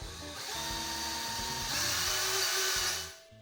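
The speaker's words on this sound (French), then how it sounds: "je sors le niveau laser, je trace mes points de perçage et je perce." A power drill boring holes into a wall panel, a close, steady whining motor with pitch wavering under load, then spinning down at the end.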